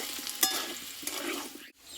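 Thick-cut potato pieces frying in oil, a close continuous sizzle with a couple of clinks from stirring, then a brief drop before the sizzle resumes.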